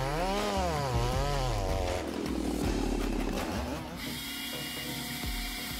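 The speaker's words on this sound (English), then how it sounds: "Cuts through giant logs with unparalleled precision, conquering the world of forestry with unprecedented performance." A big chainsaw machine cuts giant logs with a loud, continuous engine whine and grinding cutting noise that drops to a steadier drone partway through.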